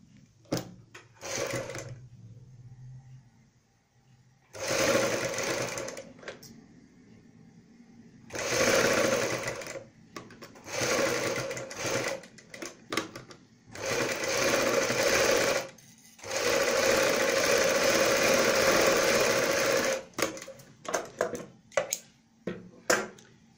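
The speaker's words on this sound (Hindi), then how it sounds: "यहाँ पे किनारी की सिलाई लगाएंगे।" A sewing machine runs in short and long bursts while stitching the edge of a kurti sleeve, its fast mechanical whirr starting and stopping between pauses and small handling noises, close and fairly quiet.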